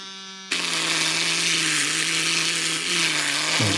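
An electric nail drill fitted with a sanding cylinder spins up to full speed, a steady high whine with a low hum that jumps in suddenly after a quiet motor tone, running alone and close.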